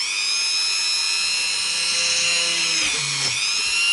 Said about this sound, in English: We'll go through the Dremel first.